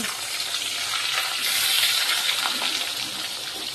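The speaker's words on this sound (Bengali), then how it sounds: "আর এবার সবজিগুলোকে সব দিয়ে দেবো, আলু পটল সব এগুলোকেও লাল লাল করে ভেজে নেব।" Cubed potatoes and pointed gourd frying in hot oil with whole cumin and bay leaves, a steady, fairly loud broadband hiss that swells slightly midway and carries no talk.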